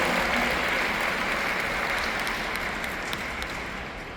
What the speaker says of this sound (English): Big applause to our team also.